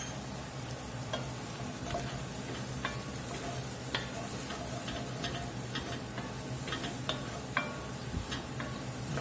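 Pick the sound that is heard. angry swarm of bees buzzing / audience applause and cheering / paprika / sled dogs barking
paprika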